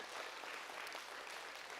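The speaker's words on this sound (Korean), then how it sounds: "우리 박수로 격려해 주시겠습니다" At a church talk on listening, a faint, steady wash of audience applause, many hands clapping evenly and at low level across the short stretch, with no other sound standing out.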